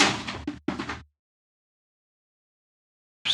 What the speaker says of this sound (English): my cat just knocked books off my bookshelf. That's what you heard.